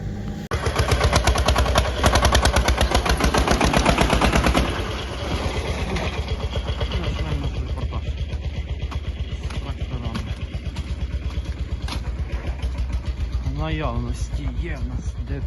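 A small 24-horsepower Skaut tractor engine runs with a rapid, loud chugging rhythm close by, steady throughout, with background talk mixed in.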